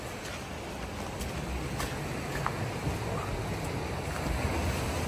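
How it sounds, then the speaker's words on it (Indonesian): Big ocean waves wash onto a beach at night, a steady, loud broadband roar of surf with wind buffeting the microphone, continuous and close throughout. "Mana ombaknya gede banget guys."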